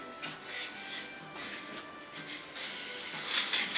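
Short hissing bursts of an aerosol spray can, several puffs building into a louder, longer spray toward the end.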